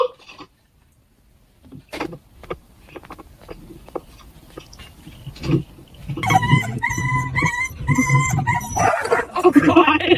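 A puppy whimpers and yips in a home, starting with scattered faint sounds and breaking into louder, continuous high-pitched whining and yelping toward the end.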